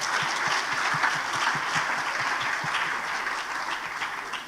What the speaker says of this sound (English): Can you please clap for that?